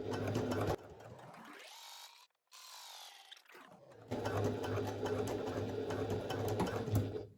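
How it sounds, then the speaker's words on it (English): A sewing machine stitches a pouch pocket in a close burst, slows and winds down in pitch, pauses briefly, spins back up, then runs a second loud, fast stretch for the back stitching. "So I've sewn past the edge of the fabric just to restrain it properly, and back stitch"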